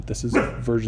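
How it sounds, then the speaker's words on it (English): A dog barks in the background of a home setting, brief and fairly distant, under a man's continuous close speech. "You can hear my dog in the background."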